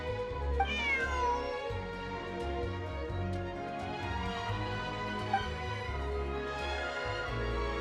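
A cat meows repeatedly in Genshin Impact, its drawn-out, wavering cries rising over soft, steady background music.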